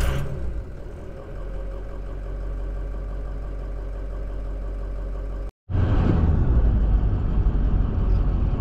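A Ford 6.0 Powerstroke diesel engine cranks over and settles into a steady, loud, low idle, with a brief cutout midway before the rumble resumes, thicker and rougher, to the end; no talking.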